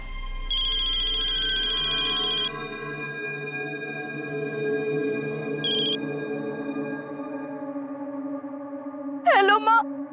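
A telephone rings as a call goes through, a steady repeating ring tone running for several seconds, then a brief tonal burst and a short warbling chirp near the end, with no voices.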